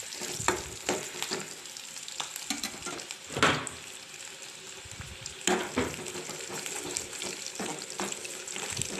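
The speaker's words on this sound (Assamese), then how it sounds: "পিয়াজখিনি ভালদৰে ফ্ৰাই কৰি লোৱাৰ পিছত" Chopped onions frying in oil in a pan, a continuous sizzle with irregular clinks and scrapes of a utensil stirring, close and moderately loud, with no speech.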